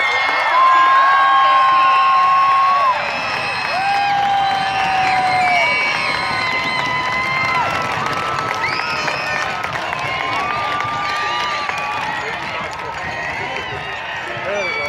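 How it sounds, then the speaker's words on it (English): A big crowd claps and cheers for graduating seniors at the Del Mar High School graduation ceremony, while loud music and singing play over the cheering. "one final applause for the graduating seniors from Del Mar High School"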